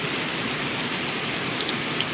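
Steady rain comes down in Wang Nam Khiao during a dry spell, a dense, even hiss of drops on surfaces throughout, fairly loud and close, with no voices.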